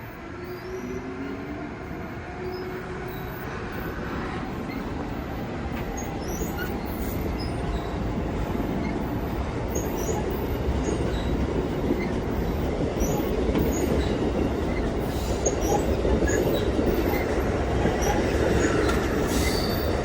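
A passenger train bound for Boston passes through Stamford station with a loud, continuous rumble of wheels on rail, high squealing and clattering that grows steadily over twenty seconds, with no talking.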